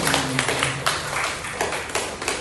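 A school audience claps together, a dense patter of many hands with a few sharper individual claps standing out, steady and fairly close throughout with no talk over it.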